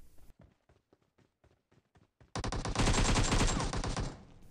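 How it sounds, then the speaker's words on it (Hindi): In PUBG Mobile, a few light footsteps are followed by a long, loud burst of rapid automatic gunfire that lasts about two seconds. "और यहाँ पहले तो मैं इस पर फायर करने की कोशिश करता हूँ लेकिन उसे सिर्फ थोड़ा डैमेज होता है"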